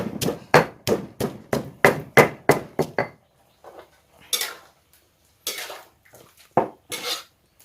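White pepper and garlic pounded in a mortar for a stir-fry, a run of about a dozen loud, evenly spaced thuds, followed by scattered softer knocks and scraping.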